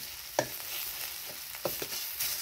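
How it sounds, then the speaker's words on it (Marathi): Roasted brinjal is mashed for Maharashtrian vangyache bharit. It comes through as a few quiet, scattered soft taps and squishes against the pan over a low background hiss. "थोडंसं आहे ना असं वांग मॅश करून घ्यायचं"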